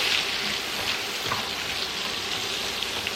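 Salmon sizzles steadily in garlic lime butter sauce in a pan, a continuous close, even frying hiss with no voices over it.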